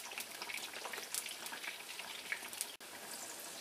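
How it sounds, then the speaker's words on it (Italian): Dried eggplant slices fry in oil, making a quiet, steady crackle and sizzle with scattered small pops and spits. One brief break cuts in near the end. "E ora passiamo a friggere le melanzane."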